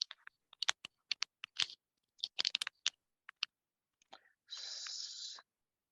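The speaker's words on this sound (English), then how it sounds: "Somebody is typing, so please mute yourself." Someone types on a computer keyboard during an online call, giving an uneven run of sharp, close key clicks in bursts with short pauses, followed by a brief hissing scrape.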